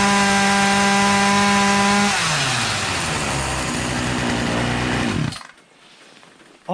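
A Poulan 2250 Woodman 36cc 18-inch gas chainsaw, its fuel lines and carburetor newly replaced, drops from a high rev to a loud, rough two-stroke idle that holds steady for a few seconds before it cuts off.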